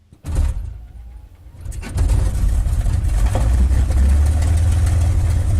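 A light aircraft's piston engine, the CrazyHorse2, cranks over, catches and settles into a steady, loud low idle around 800 RPM, close and continuous after a brief quieter start.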